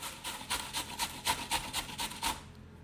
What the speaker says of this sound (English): And grating the carrots, guys, it's really easy.